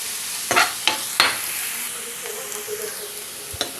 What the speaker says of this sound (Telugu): ఉల్లిపాయలు దోరగా వేయించుకుందాం